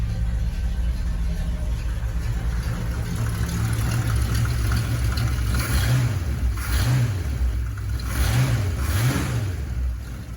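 A 1963 Ford Fairlane V8 with a mild cam and dual exhaust through an X-pipe and Flowmasters idles with a loud, close rumble, then is revved several times in quick repeated blips.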